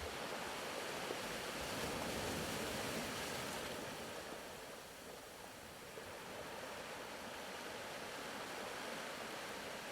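Gentle ocean waves wash steadily onto a shore, a soft continuous surf hiss rising and easing slightly, fairly faint and heard alone without voices.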